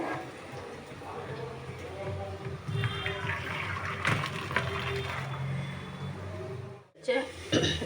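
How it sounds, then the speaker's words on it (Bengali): Water poured into a pan while cooking chow mein, a steady rushing splash with background noise that cuts out briefly near the end and then resumes in a short burst. "জল ফেলবো, এই যে হয়ে গেছে।"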